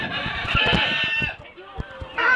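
Chickens cluck and squawk close by in a noisy farm flock, with short bursts of talk mixed in.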